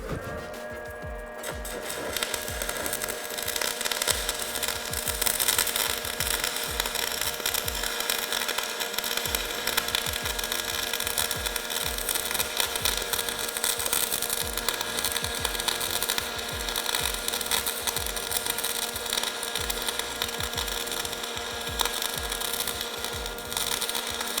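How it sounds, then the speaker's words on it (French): Shielded metal arc welding with a coated stick electrode gives a steady, close, dense crackling sizzle that holds evenly throughout, with a rapid rough pulsing underneath and no talking. "On va allumer le poste et on va commencer notre soude."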